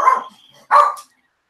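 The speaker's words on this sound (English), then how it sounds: "Apologies for the dog barking at the" Two loud, close barks from a dog reacting to a bird, separated by a short pause, with nothing else around them.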